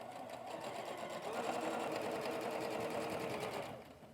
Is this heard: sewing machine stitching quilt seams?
yes